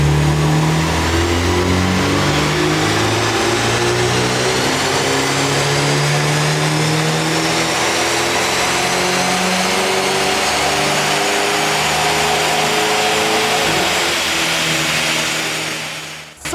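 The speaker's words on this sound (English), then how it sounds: "The 220i is now mapped and ready to go on the dyno." A stage 1 mapped BMW 220i with exhaust and MST induction kit revs hard on a dyno, its engine note climbing loudly and continuously through the gear for about sixteen seconds before cutting off.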